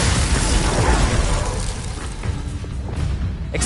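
Glacius ice spell cast in Hogwarts Legacy: a loud, dense burst of crackling and shattering energy that slowly thins out, ending in a couple of sharp clicks, close and with no voices.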